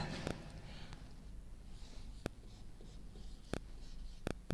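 Chalk or marker strokes on a board scratch and tap faintly in a quiet room, with a few sharp clicks spaced across the line being written.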